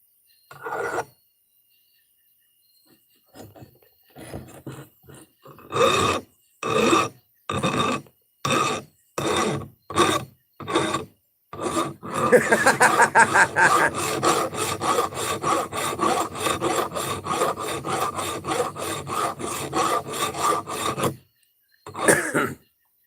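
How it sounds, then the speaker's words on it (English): A hand rasp file works on wood: a few scattered scrapes, then a run of evenly spaced strokes that speed up into continuous close rasping, ending with a brief pause and one last stroke. "trying my hand at being a secretary and doing some filing"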